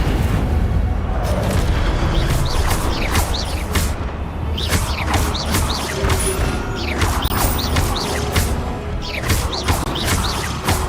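Spell effects in the Hogwarts Legacy wizarding video game, including a fiery Incendio cast, burst out as repeated sharp whooshes and crackling blasts over a dense, continuous rumble of combat sounds.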